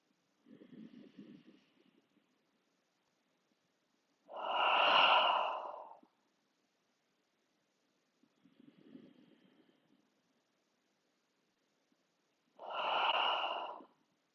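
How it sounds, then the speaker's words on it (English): Slow breaths during a stretching session: two soft inhales through the nose, each followed by a louder, whooshing sighed exhale, spaced evenly and close to the microphone with quiet gaps between. "inhale through your nose and exhale, sigh your breath away."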